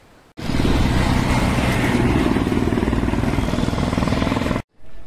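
An AC technician's motorcycle engine runs loud and close with a steady, throbbing idle pulse for about four seconds, then cuts out abruptly before a short burst returns.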